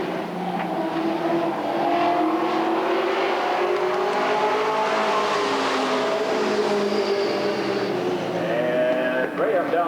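Race cars lapping a dirt oval at Redwood Acres Raceway in 1989, their loud engines droning and rising and falling in pitch as they pass, with a voice heard over the roar.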